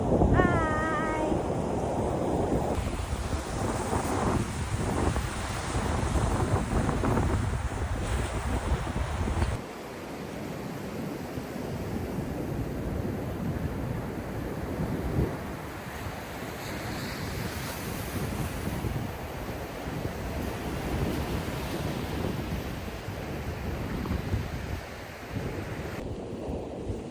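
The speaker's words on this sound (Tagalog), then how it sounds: "Lakas ng alon, be." Strong ocean waves crash and wash at the shore in Pohang, a continuous loud roar of surf with heavy wind buffeting the microphone and no talking.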